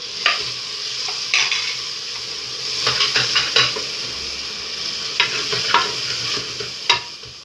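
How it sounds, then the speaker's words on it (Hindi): A spice mix of turmeric, dried coriander and salt for chicken korma is stirred and fried in a pot. A steady close sizzle is broken by repeated scraping and clinking strokes of the spoon. "अब हम इसकी थोड़ी सी भुनाई करेंगे।"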